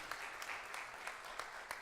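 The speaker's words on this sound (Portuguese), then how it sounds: "Vamos recebê-lo aplaudindo o Senhor?" A church congregation claps steadily, a dense wash of applause at moderate distance with a few sharper claps standing out.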